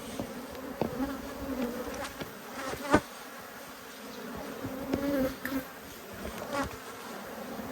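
Honey bees buzzing around plastic hive frames being rubbed with wax in an Australian apiary, a continuous close hum with individual bees droning past, plus a few sharp handling knocks and scrapes.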